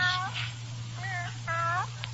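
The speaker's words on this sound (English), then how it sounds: "Here, kitty." A cat in a radio drama gives several short, close meows, three or four distinct mewing calls spread over two seconds above a low steady hum.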